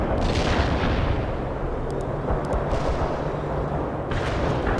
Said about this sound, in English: Light artillery barrage.